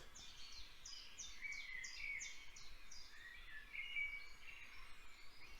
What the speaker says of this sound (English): Hundreds probably of different birds, dozens of species.